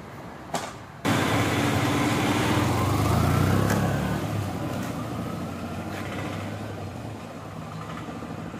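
Motorbike engine running steadily during a riding lesson, a low continuous drone that swells from about one second in, rises slightly, then settles to an even hum, with no talk.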